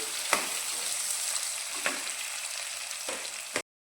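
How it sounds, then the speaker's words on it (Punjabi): Onion and green chilli fry in a pan with a steady close sizzle, broken by three sharp scrapes of stirring spaced through the clip before it cuts off. "ਤੇ ਬਾਅਦ ਵਿੱਚ ਆਪਾਂ ਪਿਆਜ਼ ਹਰੀ ਮਿਰਚ ਪਾ ਦਿੰਨੇ ਆ ਭੁੰਨ ਲੈਣੇ ਇਹਨਾਂ ਨੂੰ"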